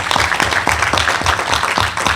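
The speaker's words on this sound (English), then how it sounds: "round of applause for Pico Reynoso" An audience at a borough council meeting claps in a round of applause, a dense, loud patter of many hands close by, with no talking.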